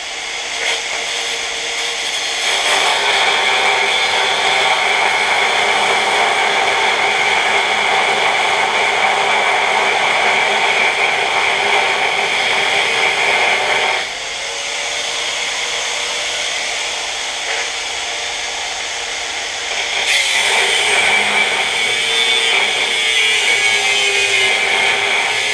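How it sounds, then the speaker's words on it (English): An abrasive cutoff wheel cuts through the steel frame rail of a Ford F750 haul truck, a loud sustained grinding whine that eases briefly midway and then resumes at full intensity. "Gonna get a cutoff wheel to finish it."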